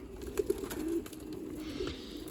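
Pigeons in a breeding loft coo softly in short, throaty bursts, a few distinct calls rising over a low, murmuring background.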